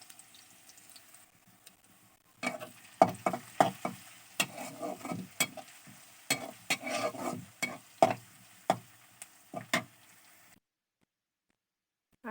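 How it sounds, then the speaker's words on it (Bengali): Onion and garlic sizzle in hot oil as lentils are tempered, with a run of sharp spoon clinks and stirring scrapes in an irregular rhythm over a quiet hiss, close by, before the sound cuts to silence. "এখানে আছে পেঁয়াজ আর রসুন, গরম তেলে দিয়ে দিয়েছি, এখন ডালটা বাগার দিয়ে দিব।"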